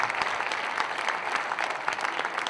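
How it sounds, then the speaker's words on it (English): A crowd applauds steadily throughout at a Cardinals baseball caravan event in Joplin, a dense wash of clapping at even loudness with no voices on top. "How about a round of applause for Southwest United Way?"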